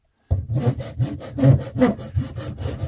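Short back-and-forth rasping strokes of a blade cutting a bevel on the edge of a kitchen sink P-trap pipe, close and loud, about a dozen rhythmic rubbing passes with no talking.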